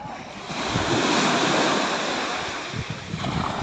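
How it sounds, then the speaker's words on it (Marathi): Ocean waves roll toward the shore at Girgaon Chowpatty in Mumbai, a continuous rushing surf that swells to a peak and then eases, with light wind noise on the microphone and no voices. "हे बघा, लाटा जवळ येतात."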